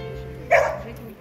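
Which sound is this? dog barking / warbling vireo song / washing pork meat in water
dog barking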